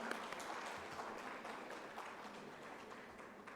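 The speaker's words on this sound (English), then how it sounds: "Let's welcome him with a big round of applause" Audience at an educators' summit and school merit awards conference clapping to welcome a speaker, with faint, steady applause heard from a distance and no talk.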